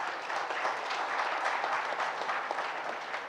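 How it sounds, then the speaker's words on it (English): An audience at a Tamil Nadu sports conclave applauds champions with dense, steady clapping that carries evenly throughout. "Let's see that lunge come to action with powerful round of applause for our champions."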